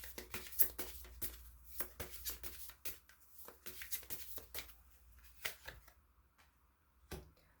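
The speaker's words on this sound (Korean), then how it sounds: "조언점 카드도 한 장 더 뽑아보도록 하겠습니다" Tarot cards being shuffled and drawn for a reading, a soft, close series of quick papery flicks and snaps that thins out toward the end, with no voices.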